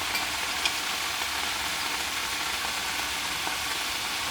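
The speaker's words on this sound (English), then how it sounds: "I'm gonna grab a spoon and then put some of the bulgogi sauce on here" Shredded cabbage sizzles in a hot pan with bulgogi sauce, a steady bright crackling hiss that stays loud and continuous, with faint ticks and pops and no voices.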